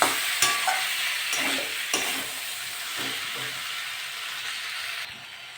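Potatoes and pointed gourd are stir-fried in oil with spices, a steady sizzle broken by repeated scraping strokes of a spatula against the pan.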